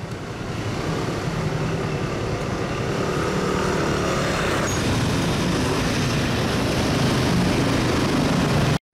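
Dense traffic on the road to Ngurah Rai airport in Bali, a constant broad roar of engines and tyres holding steady for about nine seconds without talk, then cutting off abruptly.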